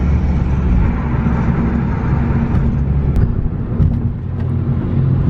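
Loud, close car engine rumbling continuously at a car meet in Temecula, with a few brief sharper bursts near the end.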